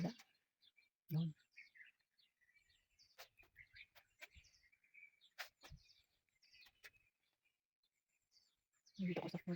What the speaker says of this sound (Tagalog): Kasi ang mga ibon, grabe ingay nila, pero gandang pakinggan.